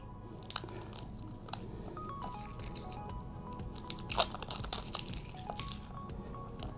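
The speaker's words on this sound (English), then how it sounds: "Take off the wrapping." Plastic wrapping is pulled and crinkled off a pack of Pratley Putty epoxy, close-up crackling and tearing rustles in irregular bursts with a few sharper crunches, no talking.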